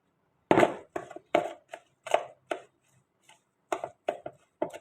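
Beef ball mixture of ground beef, garlic, onion, potato and carrots being worked together by hand, heard as close, irregular squelching thumps in short bursts with brief pauses, no talking.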